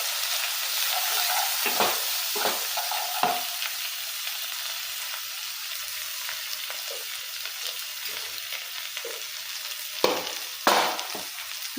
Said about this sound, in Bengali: দিয়ে মশলাটাকে কষিয়ে নেব।